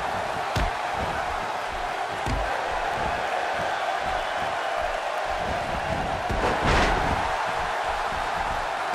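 A large arena crowd at a wrestling event in the WWE 2K16 video game keeps up a steady roar through the whole stretch. A louder burst of cheering comes near the end, along with a few sharp impacts.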